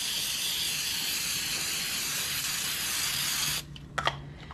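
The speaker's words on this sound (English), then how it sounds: "you are going to spray these very well because you want all these little nooks and crannies to get some spray" A steady aerosol spray of nonstick baking spray into a cast iron pan hisses continuously for several seconds, close and loud, then cuts off, followed by a few faint clicks and taps.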